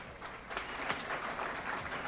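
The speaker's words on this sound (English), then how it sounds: "I think that deserves an applause" A studio audience gives faint, distant applause for a songwriter on a 1980 television music show, with a soft, steady patter of clapping throughout.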